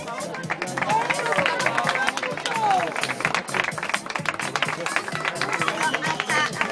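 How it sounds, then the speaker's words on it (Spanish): Strong applause from an audience at an event, dense and steady clapping lasting several seconds, mixed with crowd noise and some background voices. "Un fuerte aplauso para ella"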